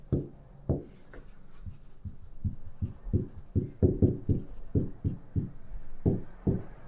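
Chalk or marker tapping and scraping on a classroom board in quick uneven strokes, close and fairly loud, with a faint hiss of room noise behind and no speech.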